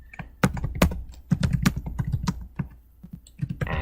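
Close computer keyboard typing while editing a file in the vim text editor, with bursts of crisp key clicks separated by short pauses and a few louder, accented strikes.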